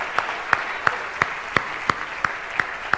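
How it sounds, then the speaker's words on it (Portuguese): A church congregation claps together in steady, evenly spaced beats, roughly three per second, sharp and fairly close, with a faint room hum beneath. "Vamos aplaudir Jesus, porque Ele merece."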